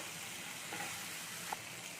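Ground peanut, ginger and chilli paste frying in a pan gives a faint, even sizzle with one or two tiny pops, quiet and brief.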